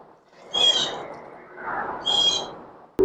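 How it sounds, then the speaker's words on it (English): Birds call outdoors, with two short, clear bursts of calls about a second and a half apart over a faint background hum. "Sorry about the birds and the the noise of the cars."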